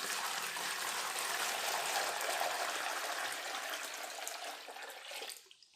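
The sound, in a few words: leftover paper-pulp water poured through a strainer into a bucket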